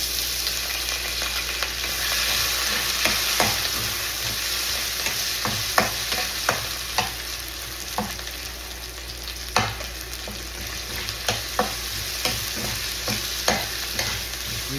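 Potatoes frying in a pan for arroz a la cubana, a constant sizzle punctuated by repeated sharp scrapes and knocks of stirring, close and fairly loud, with no talking.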